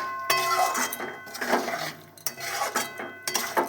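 Chicken kosha stirred in a pot with a metal utensil, giving repeated close clanks and scrapes against the pot at an uneven rhythm, with faint sizzling beneath and no voices.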